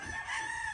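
A rooster crows on a farm that keeps black hens, one short, loud, close call with a strained, harmonic tone.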